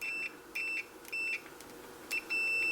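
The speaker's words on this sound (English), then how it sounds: "it's got a kind of weeny kind of little beep going there" Short, thin electronic beeps from a multimeter continuity test on a NuTone intercom unit, about five in an irregular series, each lasting a fraction of a second over a quiet background hiss.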